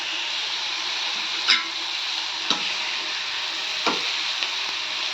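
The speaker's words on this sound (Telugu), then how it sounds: "ఉల్లిపాయలు బాగా వేగాలి." Onions frying in a pan for an old-style fenugreek tamarind curry, a steady bright sizzle throughout with a few sharp stirring scrapes at intervals, close and alone with no talk.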